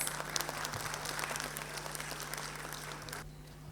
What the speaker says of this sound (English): Let us invite ma'am with a huge round of applause